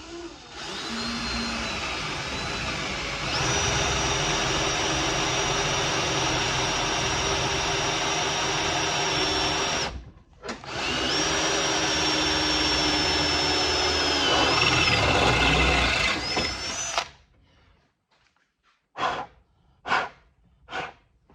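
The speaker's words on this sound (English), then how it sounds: "Let's drill a hole." A loud power drill whines steadily for several seconds while drilling a hole for a shop hoist on an I-beam, stops briefly, then runs again before cutting out, followed by a few short bursts.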